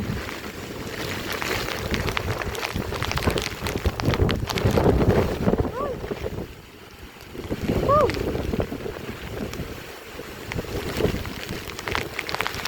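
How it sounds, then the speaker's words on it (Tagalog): Strong gusting wind buffets the microphone in uneven bursts over a constant rushing wash of rain in an open field, with a voice talking faintly underneath. "pabugso-bugso na yung malakas na hangin at ulan"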